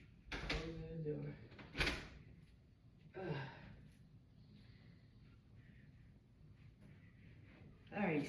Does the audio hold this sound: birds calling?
no